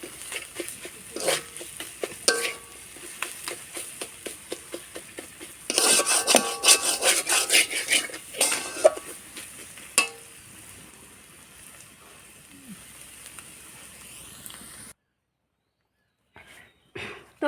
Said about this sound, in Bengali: এটাকে কষাবো।